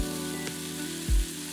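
Thin beef slices for Hong Kong-style pepper rice sizzle steadily in a hot nonstick pan on the stove, with a soft thump partway through as the meat is turned.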